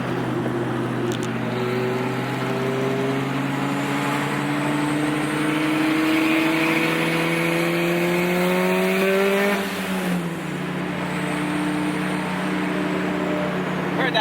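A Honda VTEC car engine revving hard, pitch climbing steadily through the gears with a sharp rise then drop near ten seconds before climbing again, loud and close.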